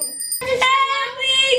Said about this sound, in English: With Lexi on the bell.